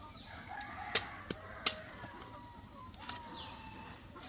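Faint, distant clucks and a few sharp calls from chickens in a quiet outdoor setting, with scattered soft rustles and no talking.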